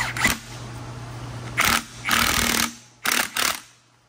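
A power tool drives the crank pulley bolt back into a Subaru Legacy Outback EJ25 2.5 DOHC engine. Its hum idles, then comes several loud, close rattling bursts of hammering impact.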